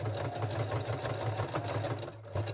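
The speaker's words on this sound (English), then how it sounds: "So we will sew the strap edges" Sewing machine stitching the edges of a garter belt strap, a rapid steady mechanical chatter up close that runs continuously with a brief pause near the end.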